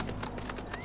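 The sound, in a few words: horse mount hooves clip-clopping in video game Final Fantasy XIV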